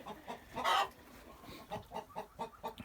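A Leghorn-type hen, calico-speckled and sitting on a nest to lay, clucks in a loud near burst followed by a run of softer rhythmic clucks, with no talking.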